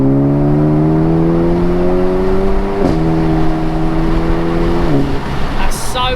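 Engine of a Renault Megane RS Trophy fitted with a full exhaust system, held at a steady drone that rises slowly and then shifts pitch twice, loud and close inside the cabin.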